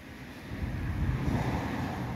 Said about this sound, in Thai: มาเห็นลมกระโชกเมื่อกี้อย่างแรงเลยนะครับ